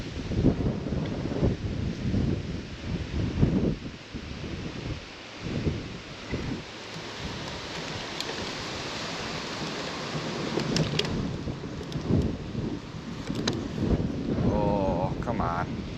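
Outdoors while fishing, strong wind gusts roar and buffet the microphone, making a constant low rumble that rises and falls the whole time.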